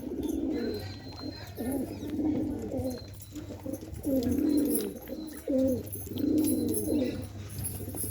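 Pigeons in a loft give repeated low, throaty coos in rolling phrases, several close calls following one another over a faint steady background hum.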